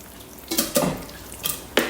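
Chopped food poured from a Thermomix bowl in a kitchen, a few close wet splats and clatters of chunky pieces landing, in short bursts with quiet gaps between.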